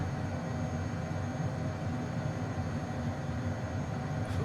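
Honda Jet engines held at takeoff power in Microsoft Flight Simulator, a steady, loud broadband jet roar with a low rumble that stays constant throughout, no talking.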